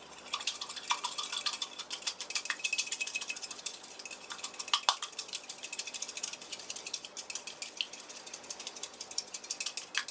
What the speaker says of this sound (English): I'm using a whisk, and we'll whisk it